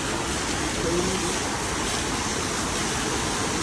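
A river swollen after rain flows in a broad, steady roar that fills the whole clip, loud and unbroken, with no clear voices over it.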